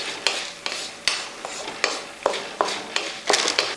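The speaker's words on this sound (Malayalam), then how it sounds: "അതിന് ശേഷം ഒന്ന് ഇളക്കി കൊടുക്കുക" A spoon scrapes and knocks around a pan of urad dal frying in oil for lemon rice, about ten distinct stirring strokes in an uneven rhythm over a soft, constant sizzle, close and clear.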